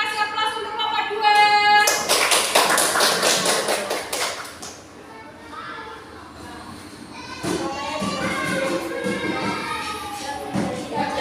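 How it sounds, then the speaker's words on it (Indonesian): A classroom applauds group 2 as the students come forward: dense bursts of clapping rise and fall amid loud, overlapping children's voices and chanting, with a lull in the middle before a second, busier round of claps. "Kita kasih aplaus untuk kelompok 2."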